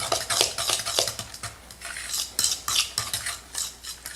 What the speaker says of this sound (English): Stir up our eggs and gradually blend in our cauliflower until we have a complete homogeneous